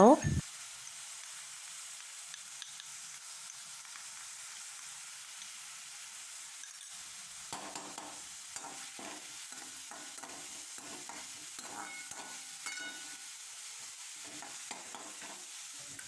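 Mushrooms with ginger garlic paste fry in a pan for road-side style kaalan, a soft continuous sizzle with scattered scraping taps of stirring, quiet and without talk.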